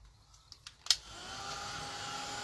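A heat tool drying a burlap art journal page starts after a few light clicks and then runs as a steady, close whooshing hum to the end.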